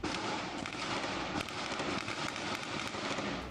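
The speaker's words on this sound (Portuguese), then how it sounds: "Moradores registraram a intensa troca de tiros." Intense gunfire rings out in a rapid, dense series of sharp cracks and bangs, muffled and somewhat distant and recorded by residents during a police operation in a Rio community.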